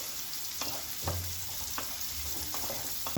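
Chopped onions sizzle steadily in a hot pan, a constant close frying hiss broken by a few soft scraping stirs.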